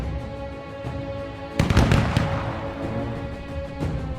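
Artillery fire in the video game We. The Revolution: a loud burst of crackling blasts erupts midway, with a few scattered distant booms before and after over a steady background hum.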